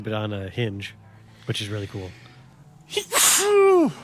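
A single loud sneeze bursts out near the end, right after a stretch of casual talk about a futuristic sports car in Cyberpunk 2077.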